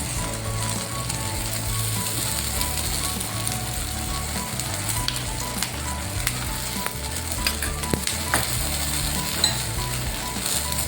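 A jowar flour amboli cooking in ghee on its second side gives off a steady close sizzle and crackle for the whole stretch, with occasional faint ticks from the pan and no voices.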